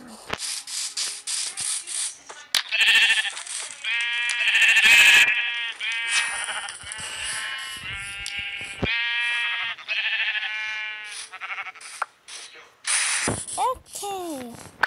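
Video-game sheep bleat repeatedly in wavering, nasal cries, some overlapping, along with clicking and ratcheting game sounds and occasional talk.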